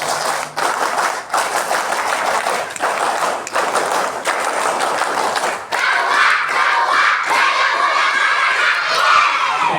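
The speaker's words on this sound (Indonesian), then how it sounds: "3 kali tepuk pramuka." Children at a primary-school scout camp chant and clap the rhythmic scout clap together, a loud crowd burst of shouting voices and sharp claps repeated in bursts, swelling into cheering toward the end.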